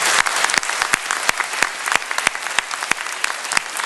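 Steady crowd applause at a French commemoration for colonial paratrooper veterans, dense and sustained with sharp individual claps standing out throughout.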